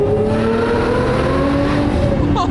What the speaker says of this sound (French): Moteur V12 Murciélago à aspiration naturelle, reconstruit par mon père et moi.